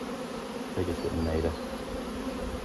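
Honey bees in an opened nucleus hive being moved into a nine-frame super hum in a dense, continuous buzz up close, with a brief quiet voice speaking over it.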